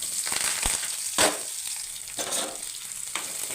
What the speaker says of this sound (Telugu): ఇది వేగుతూ ఉంటే కొంచెం వేగినాక ఉల్లిపాయ వేద్దాం